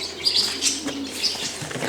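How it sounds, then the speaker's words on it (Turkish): A burst of wing flapping as pigeons take off and fly, with faint chirps mixed into the busy outdoor noise. "Evet, kuşlar uçuyor."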